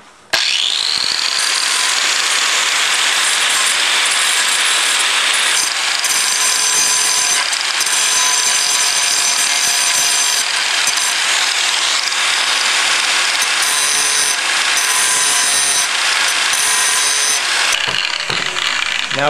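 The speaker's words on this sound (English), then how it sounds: "Now I'm going to use a bench grinder, just kind of get these inside welds" A bench grinder whines loudly and steadily as it cleans the inside welds on the handle of a Scotts Classic 20-inch reel mower, a harsh continuous grinding that shifts slightly as the metal is pressed against the wheel.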